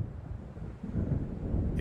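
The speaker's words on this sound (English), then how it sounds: "It seems there's a storm coming." A low, rumbling storm from the Alan Wake video game rolls on with windy noise and distant thunder, steady and moderately loud with no speech.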